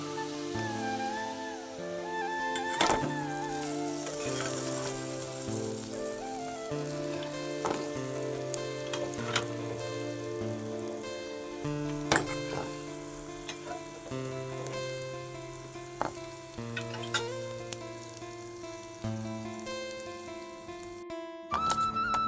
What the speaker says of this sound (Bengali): আমার মিষ্টিগুলো লাল লালভাবে ভাজা হয়ে গেছে।